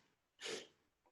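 A single short, breathy burst like a stifled sneeze, quick and quiet, followed by a faint sniff.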